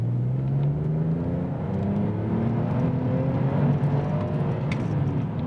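A BMW 630i E63 with the N52 straight-six and manual gearbox revs out under acceleration, a smooth rising engine note climbing steadily over road and cabin hum, heard from inside the car with no talking.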